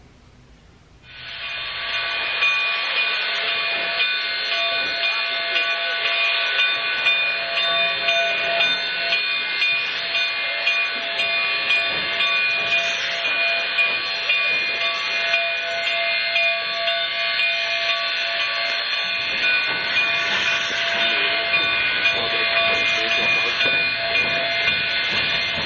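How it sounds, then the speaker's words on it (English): Baldwin steam locomotives on a narrow gauge railroad give off a loud, sustained hiss of steam with a shrill whistle-like tone running through it, starting after a quiet moment and holding steadily for over twenty seconds with no voices. "These are Baldwin locomotives."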